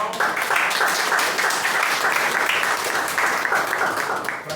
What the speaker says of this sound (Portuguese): Vamos aplaudir esse casal.